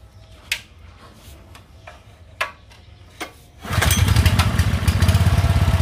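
A small Subaru EX17 6 hp engine gives a few sharp pulls and ticks, then fires up and runs with a loud, steady, chugging putter close by.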